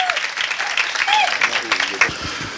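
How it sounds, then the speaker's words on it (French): A church congregation at a reception for national missionaries gives a short round of applause and acclaim. The clapping patters briefly under a voice speaking over it. "Nous allons l'accueillir avec des ovations."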